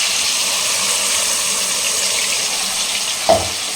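A steady, loud sizzle of paste frying in hot oil, with a brief clink of a utensil near the end.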